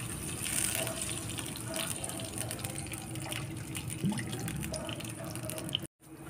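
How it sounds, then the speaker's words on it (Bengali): Water pours into a hot pan of fried coconut and dry fruits for semolina halwa, a continuous splashing gush over sizzling that cuts off abruptly near the end, with no talk. "জলটা দিয়ে দিতে হবে।"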